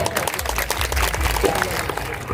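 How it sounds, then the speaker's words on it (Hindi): An audience at a World Tribal Day gathering in Dungarpur claps to honour a family, a brief burst of many hands with crowd murmur and a low rumble underneath. "मैं इनके परिवार को भी एक बार तालियों से आप सम्मानित करें।"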